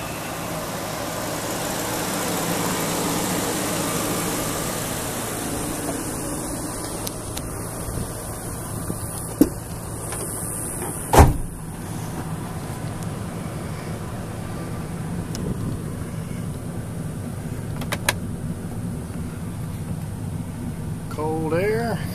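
A 2006 Ford F-250 4x4 crew cab pickup with a 5.4 liter engine idling, a steady low rumble running throughout with a few brief knocks and clicks over it.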